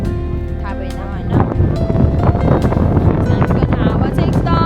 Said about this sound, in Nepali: हावा चाहिँ एकदम डेन्जर चलिरहेछ